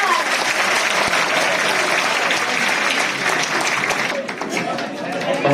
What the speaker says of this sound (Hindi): कृपया जोरदार तालियां बजाकर हौसला अफजाई करेंगे